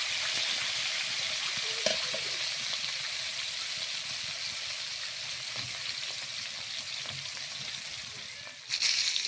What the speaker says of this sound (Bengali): মাছগুলোকে ভালো করে ভেজে নিচ্ছি